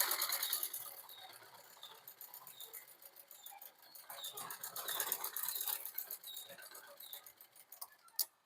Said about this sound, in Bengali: তাহলে এখান থেকে আমরা আগে একটা সেলাই মারব